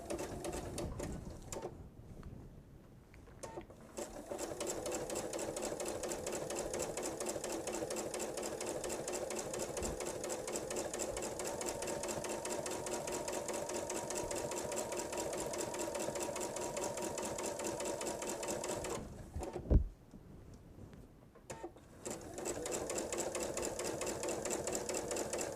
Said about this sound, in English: Put it back underneath at your 1/4 of an inch mark and start stitching again.